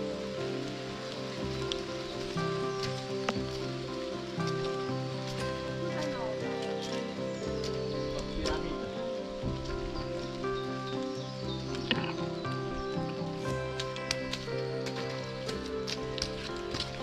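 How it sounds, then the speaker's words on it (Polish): Rain falls steadily on rocks and leaves among sandstone rock formations, a continuous dense patter with scattered louder drips, close and even throughout, while people talk underneath. "Akurat się rozpadało."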